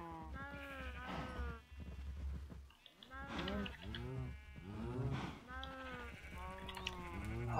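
Cows mooing in Minecraft on a farm, where the animals are being bred. Several drawn-out, harmonic moos repeat one after another at a steady, fairly loud level, with faint background sound underneath and no talking.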